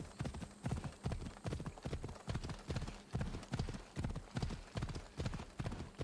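Horse hooves clip-clop steadily along the streets in Assassin's Creed Odyssey, a quick, even rhythmic gait at moderate volume with no talk over it.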